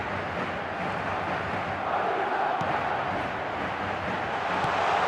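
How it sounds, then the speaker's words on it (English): A virtual stadium crowd in the eFootball video game, a dense continuous roar of cheering that swells slightly louder toward the end, with no voices standing out. "the crowd level has gone up a notch or 10"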